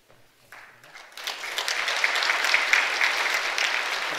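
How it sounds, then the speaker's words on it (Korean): A church congregation breaks into applause that builds quickly from a few claps into sustained, dense clapping filling the room for several seconds. "여러분 한꺼번에 우리 박수를 하도록 그렇게 하겠습니다"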